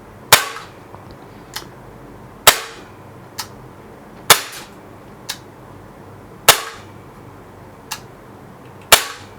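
A CZ P09 DT CO2 air pistol fires BBs and pellets, giving about five sharp, loud cracks roughly two seconds apart. Fainter clicks fall between the shots. No one speaks.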